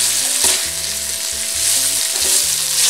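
Onion sizzles steadily in a hot pan for a vegan potato and poblano soup, a loud continuous fry with no voices over it.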